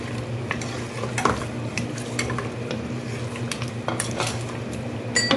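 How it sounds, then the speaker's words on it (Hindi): Potatoes and mutton being bhuna-fried in a pan for dhaba-style aloo gosht, with a steady sizzle and frequent scraping clinks of a spatula against the metal, close and continuous. "और अब आलू और गोश्त की हम करेंगे मज़ीद 5 मिनट की भुनाई।"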